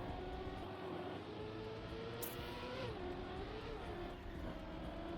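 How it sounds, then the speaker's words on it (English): A car driving around outside, its engine a distant, steady drone with slight pitch shifts under constant background noise, fairly faint throughout. "Driving around blowing their horn."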